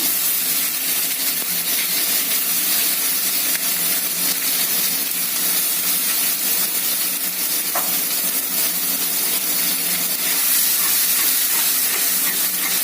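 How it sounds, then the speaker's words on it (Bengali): Ground paste of ginger, garlic, onion and green chilli sizzling loudly in a pan for spicy-sour crab curry, a dense continuous frying hiss that stays steady and close for the whole stretch. "এবার আমি বেটে রাখা মশলা দিয়ে দিচ্ছি।"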